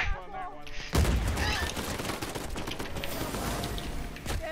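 Gunfire in an online shooter, a dense stream of loud, close shots rattling off after a sudden onset, continuing steadily with a few heavier thuds, while a voice talks faintly underneath.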